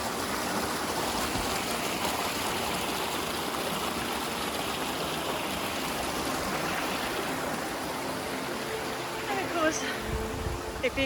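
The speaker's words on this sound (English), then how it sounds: "the sound of the little waterfalls" Small waterfalls and a stream in the Luxulyan valley rush in a steady, broadband wash that continues for the whole stretch, with a brief splash near the end.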